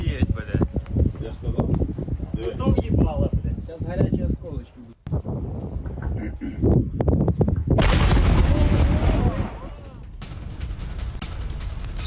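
Explosions from a drone attack on a chemical plant in Moscow: a string of heavy booms and crackling blasts, one after another, rumbling at a distance beneath a voice talking over them.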